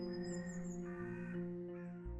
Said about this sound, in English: The bird songs and distant howls draw your attention to the forest